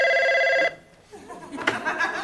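A telephone rings loudly with a steady electronic trill for under a second, then cuts off as a voice starts talking.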